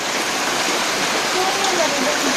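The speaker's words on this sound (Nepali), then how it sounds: "आज पानी परिरहेछ" Steady rain pours down in a Nepali village, a dense, even hiss with no break that stays loud throughout, while faint tonal sounds drift through in the background.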